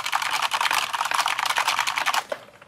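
Fast, loud typing on a Corsair K70 Pro mechanical keyboard, heard up close: rapid continuous key clacks in an uneven rhythm, ending with a few slower strokes.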